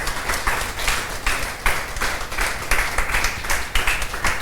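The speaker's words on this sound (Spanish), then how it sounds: "Denle un aplauso al Señor por eso" Congregation applauding at a church service during a sermon on the Lord's Supper, a steady wash of many hands clapping at moderate loudness, without any voices over it.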